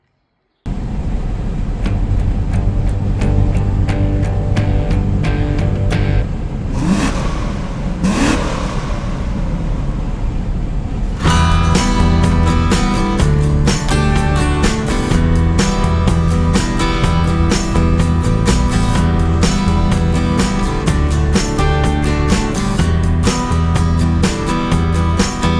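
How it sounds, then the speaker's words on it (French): A Chevrolet Corvette engine runs loud and steady up close, then revs hard and holds a strong, even drone as the car pulls away on a hot day, heading for Le Mans Classic. "Donc les derniers préparatifs, on sort la corvette et en route pour"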